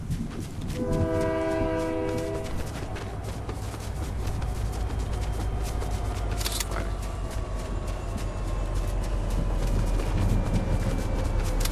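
A train rolls past in a multiplayer shooter, its horn blaring in a short stacked burst early on, with a steady loud rumble and clatter continuing throughout.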